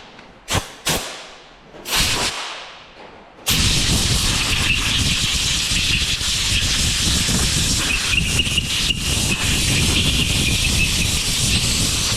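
Brake pads squealing on a Z31 300ZX fitted with a Brembo big brake kit of 6-piston and 4-piston calipers and 14-inch rotors: a few short whooshes and thumps, then a loud, continuous high squeal with harsh hiss that lasts to the end.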